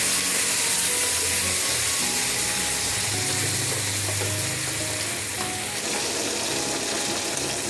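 Chicken wings fry in melted butter in a pan, a steady, dense sizzle throughout, with occasional stirring and a soft low rumble underneath.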